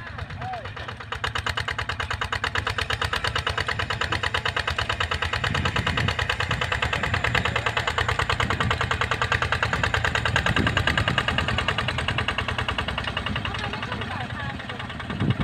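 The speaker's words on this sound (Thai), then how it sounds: "ก็รถไถดันช่วย" A farm tractor engine runs steadily while pushing in a field, a loud, close, continuous mid-pitched rumble with a rapid regular beat that rises slightly in the middle and then settles.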